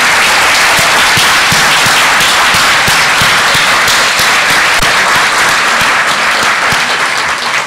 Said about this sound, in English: let's give Ashley another big round of applause